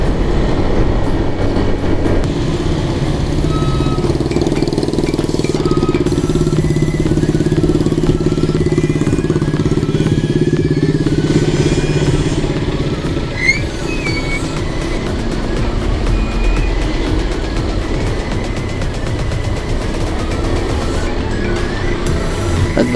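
A motorcycle ridden on the road toward Marilao under overcast skies, captured on an SJCAM SJ8 PRO action cam, gives a steady, loud roar of engine and wind rumble that holds for the whole stretch with no talking.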